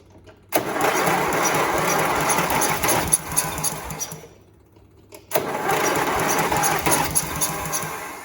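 A small engine on the bench cranking and running on jump-pack power, with two loud bursts of rattling, clattering engine noise separated by a short near-silent gap, close to the listener.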